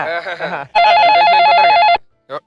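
A telephone bell rings in a steady warbling trill for just over a second during a TV comedy skit, loud and close, right after people talk, followed by a short burst of voice.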